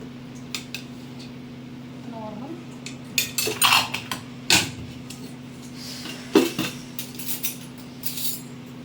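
Khichdi tipped into a pot in a home kitchen, metal utensils clinking and scraping against the cookware in several sharp, close clanks, with a steady hum beneath and a voice heard briefly.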